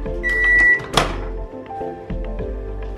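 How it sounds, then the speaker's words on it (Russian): A short, close hum of a microwave oven heating half a glass of milk, with a beep and a sharp thunk, like a door closing, followed by the low drone of it running. "Полстакана молока отправляем в микроволновку."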